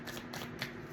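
Tarot cards being shuffled by hand, three quick riffling bursts close up within a second.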